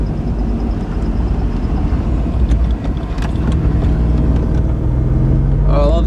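A Noble M400 supercar engine drones loud and close from inside the cabin while driving, a continuous low roar with shifting revs and brief sharp rises near the end.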